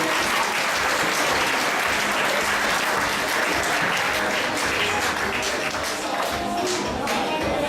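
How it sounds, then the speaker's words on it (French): Sustained applause from a large audience at a French high school awards ceremony, dense and steady clapping throughout without a break. "On peut l'applaudir,"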